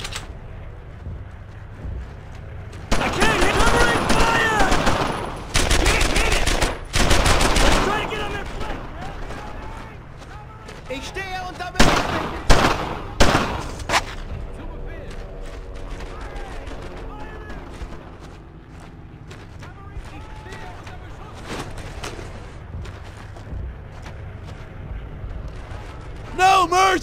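Gunfire in the World War II shooter Brothers in Arms: Earned in Blood, loud bursts of rifle and machine-gun fire and blasts, with shouting voices in between.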